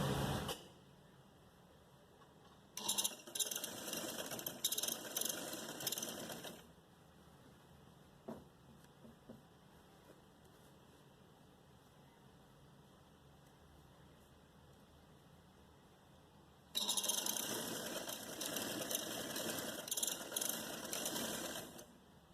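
A sewing machine stitching the seam of a designer short frock with box pleats: two runs of fast, mechanical whirring and clatter, separated by a long quiet pause with a single faint click.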